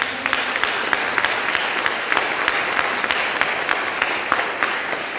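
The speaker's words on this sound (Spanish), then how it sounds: "Vamos a dar un fuerte aplauso." Loud applause breaks out from a church audience after a closing prayer, many hands clapping in a steady, busy patter with some sharper individual claps standing out, continuous for about five seconds.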